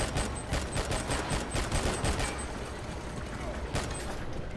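Upgraded gun firing at undead in the shooter R.I.P.D. The Game, a rapid run of close gunshots in dense bursts, then a single shot near the end, with someone talking.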